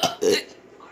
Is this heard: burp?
yes